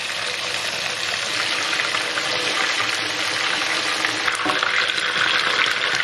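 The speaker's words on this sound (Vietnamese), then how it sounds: "Tiếp tục chiên cái mặt này" Steady, loud sizzling and crackling of chicken breast frying in hot oil in a pan, continuous throughout with no talking.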